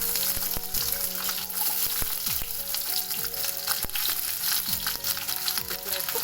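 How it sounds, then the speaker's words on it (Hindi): Long thin slices of pointed gourd shallow-fry in hot mustard oil, a loud continuous close sizzle with crisp popping crackles and occasional spatula taps. "इसमें इसको 5-7 मिनट के लिए हम फ्राई कर लेंगे।"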